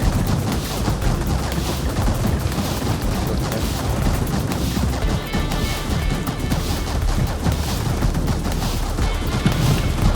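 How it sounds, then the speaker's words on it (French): Rapid machine gun fire in the vehicle combat video game TerraTech Legion, a dense continuous barrage of shots with crashing impacts and explosions, loud and sustained throughout. "la mitrailleuse, c'est vraiment devant"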